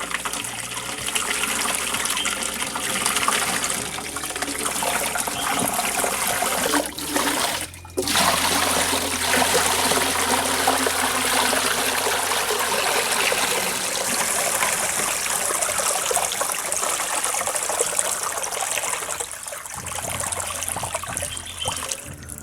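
Water pours steadily over a pot set inside a soil-bottomed fish tank during cleaning, a continuous loud gushing splash that runs without pause, briefly dipping around the middle before resuming.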